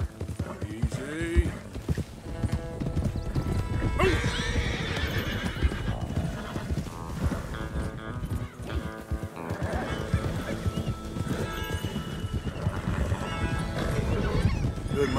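Horses in the Red Dead Redemption 2 video game gallop with rapid clip-clopping hooves and repeated loud neighs and whinnies, a dense, busy mix lasting throughout.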